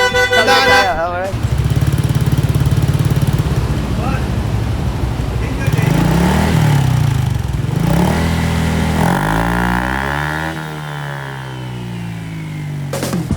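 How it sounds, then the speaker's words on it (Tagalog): Honda Click 125 version 3 scooter fitted with an M1 silencer, revving loudly up close with a rumbling exhaust that rises and falls over several throttle blips before settling to idle. "nagawa na natin yung M1 sa Click 125 sir, version 3. Silencer, sound check tayo sir!"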